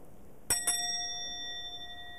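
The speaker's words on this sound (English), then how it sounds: "I ring the bell 3 times to rejoice in your emergence" A small ritual bell is struck twice in quick succession, then its bright metallic tone rings on and slowly decays against a quiet, hissy background, with no talk.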